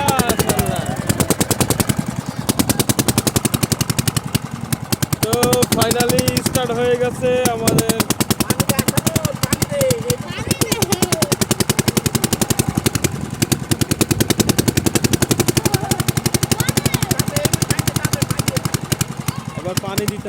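A machine engine, repaired after being flooded by rainwater, fires up and runs with a rapid, loud, continuous chugging beat, like a string of fast bangs, with voices talking faintly underneath.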